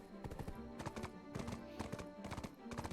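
Horse hooves clip-clop in a steady, even trot in the video game Black Desert Online, moderately loud and close, with a soft tonal background underneath.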